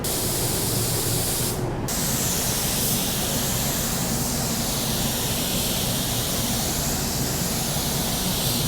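A steady, loud spray gun hiss runs without a break, a dense rushing blast of paint spraying close by.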